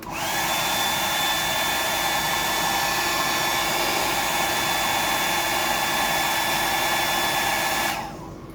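Handheld dryer blowing on a coated fishing fly, a steady loud whooshing whine running continuously for about eight seconds before cutting off, close by, no talking.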